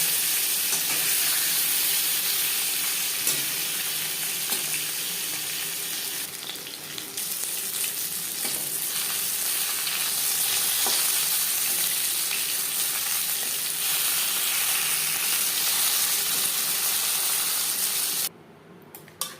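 Seven pieces of fish frying in oil in a large wok for a Bengali fish curry, a loud, steady, dense sizzle running throughout with no talk.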